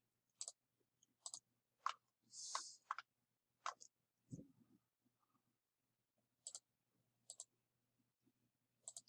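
Computer mouse clicks while drafting a house plan in AutoCAD 2019: sparse, crisp single and double clicks spaced irregularly, close and quiet in an otherwise silent room.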